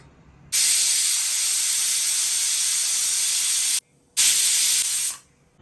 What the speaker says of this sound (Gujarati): પ્રેશર નોઝરમાંથી વરાળ નીકળે એટલે તમારે સીટી ભરાવાની છે,